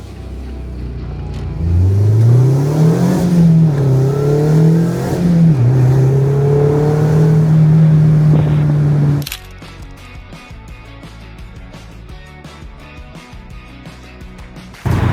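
A Mazda MX-5 convertible with its roof open drives on a track, its engine revving up through rising gear pulls, loud and close, before the sound cuts to a quieter, steadier drone with no talking.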